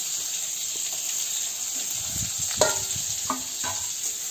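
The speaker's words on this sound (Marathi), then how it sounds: "आता ह्याच्यात हे 2 मोठे कापलेले कांदे ते टाकायचे" Two large chopped onions go into hot oil already holding garlic, setting off a continuous hiss of sizzling with a few clinks and stirring scrapes near the middle and end.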